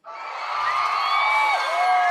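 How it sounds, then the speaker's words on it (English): A loud applause and cheering sound effect: a crowd whoops and cheers in one sustained, steady roar that starts abruptly and holds without a break. "There's the applause."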